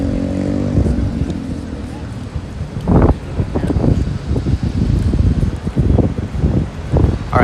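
Strong wind buffets the microphone on a New York City street, a loud, low rumbling roar that gusts and thumps unevenly throughout, with sharp blasts near the middle.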